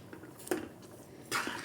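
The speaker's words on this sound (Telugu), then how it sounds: "షుగర్ అంతా కలిసే వరకు దీన్ని కలుపుకుందాం" Spoon scraping and clinking against a pan while thickened carrot kheer is stirred with sugar, a few soft, close metallic taps and scrapes in a quiet kitchen.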